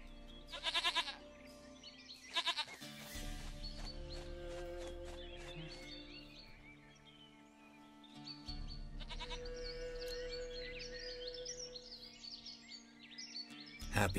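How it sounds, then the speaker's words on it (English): Goat in The Witcher 3 bleating repeatedly in loud, wavering cries over a sustained musical and ambient background, with no voices during the calls. "Goat of mine! Dearest,"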